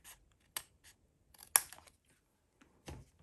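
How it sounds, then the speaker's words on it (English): Scissors snip through excess cardstock while trimming a handmade Stampin' Up cabin card, a few short, crisp close cuts separated by brief pauses in an otherwise quiet room. "I'm going to go ahead and trim off the excess"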